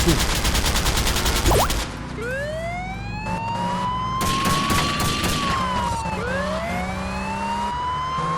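Police siren wailing in GTA Vice City, rising and falling sweeps loud and close, with bursts of gunfire crackling early on and steady game noise underneath.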